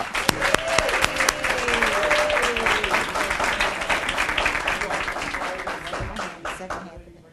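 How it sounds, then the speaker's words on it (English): Audience applause at a community service awards ceremony, a dense, steady wash of clapping hands that swells and holds before tapering off, with a voice faintly mixed in. "Let's give them another round of applause."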